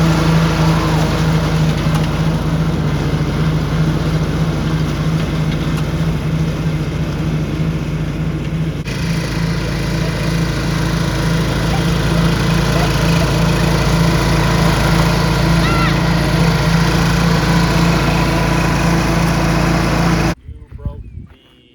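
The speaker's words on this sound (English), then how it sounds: "orange, now green tractor, lawn tractor" A lawn tractor's small engine runs steadily and loudly up close for about twenty seconds, with a slight shift in tone partway through, then cuts off abruptly near the end. People talk over the engine.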